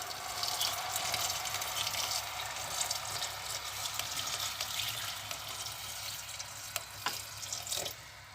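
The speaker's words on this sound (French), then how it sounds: "je recouvre avec de l'eau" Water pours steadily into a Moroccan prune tajine, a continuous hissing splash that is fairly faint and heard alone, with a few small knocks near the end.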